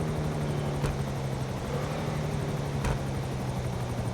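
A helicopter in the video game GTA 5, its rotor drone loud and close, holding steady throughout with a couple of sharp clicks cutting in.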